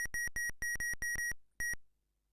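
A ZX Spectrum program sounds a run of short, identical electronic beeps, about eight clipped tones in a quick, slightly uneven rhythm, then silence.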